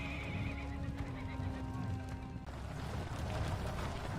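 Horses being readied by troops for a historical battle whinny and snort over a dense bed of hoof clatter and movement. The sound is moderately faint and is layered with other ambient noise.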